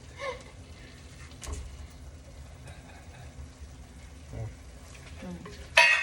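Potatoes for pav bhaji being mashed and stirred in a pan: soft, muffled scraping and squishing with a few dull knocks, fairly quiet, ending in a louder, sharper clatter.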